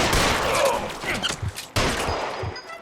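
Gunfire in the video game LA Noire, a burst of close, loud shots with a sharp crack and a second hit after a brief gap, alone with no talk.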